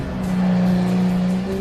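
The air-cooled 4-litre naturally aspirated engine of a Guntherwerks Porsche 993 Speedster revs up sharply and holds a high, loud, steady drone for a moment, close by.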